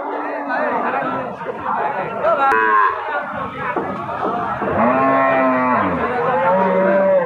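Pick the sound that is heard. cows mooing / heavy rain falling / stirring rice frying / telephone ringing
cows mooing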